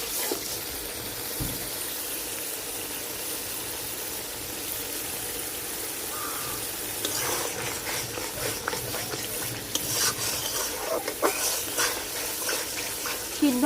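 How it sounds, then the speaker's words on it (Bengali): Ground spice paste being fried in oil for a Bengali malai katla fish curry, a steady close sizzle that grows rougher and louder in the second half as spoon scrapes and stirring clatter join in. "মশলাটা ভালোভাবে কষাই নিন"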